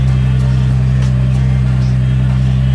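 An Audi car engine idling after starting, a loud, steady low hum with a constant drone and no clear revving, heard close up.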